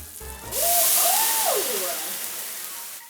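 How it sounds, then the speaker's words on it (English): Vodka poured into a smoking-hot pan erupts into a loud, broad hiss that starts abruptly and swells, then slowly fades over a few seconds, with a rising-and-falling whistling tone and no talking. "So we're going to add our vodka to the spot in the pan that is smoking hot off."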